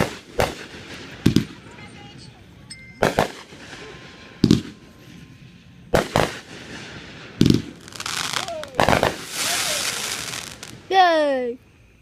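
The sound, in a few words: fireworks being set off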